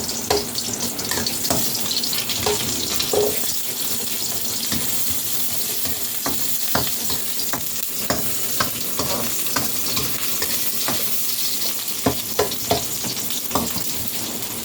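Garlic and onions fry steadily in a pan as the base of a beef caldereta, a constant close sizzle broken by regular scraping stirs from a utensil, with no voices.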